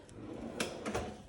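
A deep kitchen drawer built for pots and pans slides open or shut, giving a couple of quick, close woody clunks and a rattle over a quiet room.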